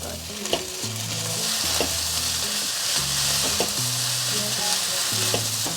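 Rice is stir-fried in a hot wok with tomato ketchup, salt and white pepper, a steady sizzle broken by repeated scraping tosses of the spatula, loud and close, with no voices.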